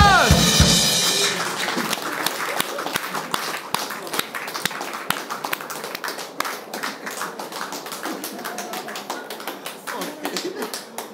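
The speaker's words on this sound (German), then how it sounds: "Ein riesiger Applaus!" Large studio audience applauding at a German talk show, dense rapid clapping that starts loud and carries steadily for several seconds, thinning slightly toward the end.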